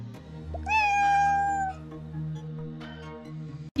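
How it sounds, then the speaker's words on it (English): Soft cat meow in a video game, a single drawn-out tonal cry that bends slightly, heard over a low sustained ambient drone, followed by a fainter second call. "Then you hear the soft meow of a cat."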